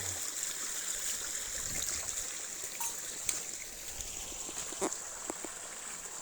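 Water flows steadily at a rural spot in Laguna where vegetables are picked, a soft continuous trickling hiss with a few faint clicks and knocks, quiet and somewhat distant.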